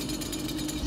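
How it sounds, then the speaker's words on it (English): A chainsaw tears into a demon in the video game Doom, a steady buzzing engine drone that stays fairly quiet and unbroken for under a second, with no speech. "Cutting apart a demon with a chainsaw will always drop"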